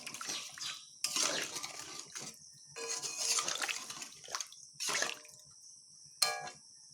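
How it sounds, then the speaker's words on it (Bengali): Water is poured in several bursts into a pan of mola fish curry, splashing and running in separate spurts with brief pauses between, fairly close, with no talking. "এখানে এবার আমি জল দিয়ে নিচ্ছি। জলটিকে ভালোভাবে মিশিয়ে নেব।"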